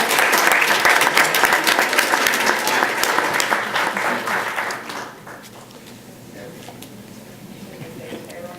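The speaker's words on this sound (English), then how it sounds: "Let's give them another warm round of applause." An audience at a school district board meeting gives a round of applause, dense clapping for about five seconds that then fades into quieter room sound with faint talk.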